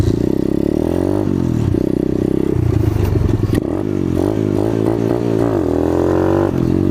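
Apollo RFZ pit dirt bike engine revving hard during a wheelie attempt, the buzzy motor climbing and dropping in pitch through several throttle bursts, close and loud with clattering and scraping mixed in.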